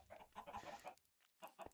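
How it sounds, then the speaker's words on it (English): Minecraft chicken clucking in a basic chicken farm, a few quick faint clucks in short bursts with a brief pause between them. "We got a kind of basic chicken farm in here, and one has escaped."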